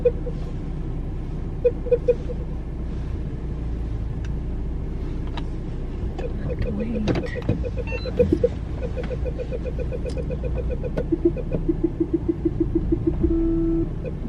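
A car is parked, its low engine hum steady throughout, with faint clicks and beeps of a parking sensor or reverse signal repeating toward the end.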